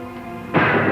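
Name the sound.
gunshot fired outdoors at night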